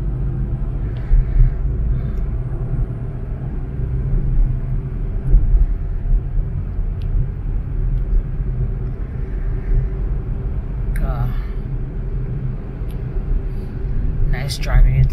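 A car drives along a road in Cebu, Philippines, with a steady low engine and road rumble heard from inside the cabin, and brief faint voices over the drone.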